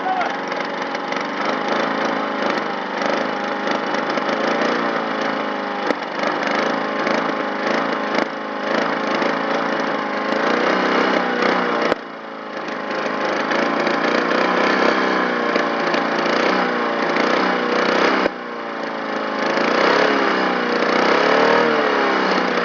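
Lawn mower engine running rough and loud throughout with a dense, rattling, popping roar, sustained without pause and close by.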